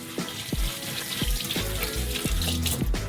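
Water runs from a kitchen tap to soak crumpled parchment paper, a steady rushing stream broken by irregular splashes and knocks at close range, with no voices.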